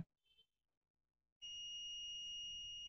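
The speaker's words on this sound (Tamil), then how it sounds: "ஓகே பீப் சவுண்ட் வருதா" After a short quiet pause, a multimeter's steady high-pitched continuity beep starts and holds continuously, clear and close, during a CRT TV repair.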